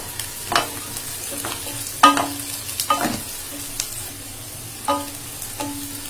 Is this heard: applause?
no